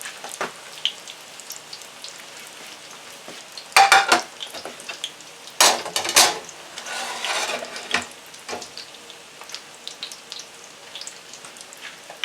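Sizzling and crackling of chicken egg rolls frying in hot oil in a pan, with a few louder bursts of spatter and clatter from turning them.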